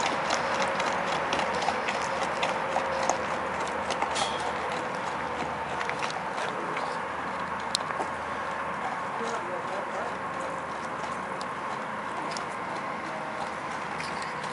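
Hooves of a young shod horse clip-clopping steadily on a hard surface, faint and rhythmic under the ongoing talk of people nearby.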